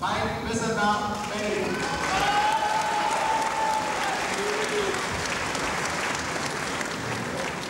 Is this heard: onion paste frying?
no